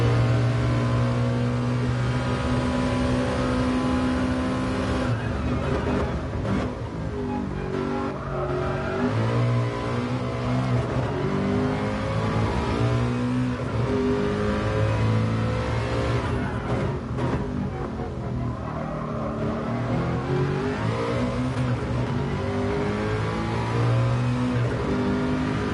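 Race car engine at Bathurst in GT Sport, a loud sustained howl that rises and falls with gear changes and throttle, running continuously near and close throughout.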